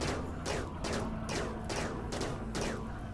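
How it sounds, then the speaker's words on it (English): Animals exploding in the video game RimWorld: a rapid run of about six loud, booming blasts roughly half a second apart over a constant heavy rumble. "Oh, they're all exploding again."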